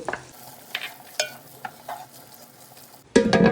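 Prawns hit a pan of biryani masala, setting off a sudden loud sizzle at the end, after a quieter stretch of spoon scrapes and stirring clinks.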